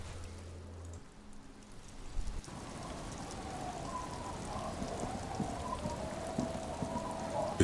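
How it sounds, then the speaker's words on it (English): Steady rain in the video game Disco Elysium falls and builds into a dense, continuous patter after a short quieter opening with a low hum. "It's getting late, and it's raining."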